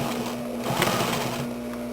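Sewing machine running steadily while top stitching the hem of jogging pants, a close, even mechanical whir with a constant motor hum throughout.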